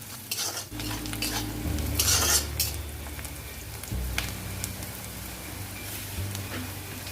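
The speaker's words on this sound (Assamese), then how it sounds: "এতিয়া ইয়াতে মই কাটি লোৱা পিঁয়াজখিনি দি ল'ম আৰু এইখিনি ভালদৰে ৰঙচুৱা হোৱালৈকে ভাজি ল'ম।" Chopped onions fry in a pan for an egg masala curry, giving a steady close sizzle with stirring scrapes and occasional utensil clinks, no talking.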